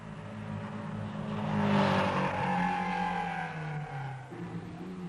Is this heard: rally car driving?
yes